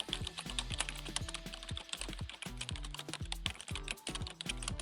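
Rapid, steady typing on a computer keyboard, close and clear, dense irregular key clicks with no pauses and no voices.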